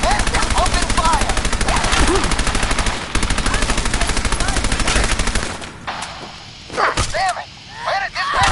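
Rapid automatic gunfire rattles in dense bursts during a Fallout 4 video game firefight, then breaks into scattered single shots and impacts, with voices talking in between.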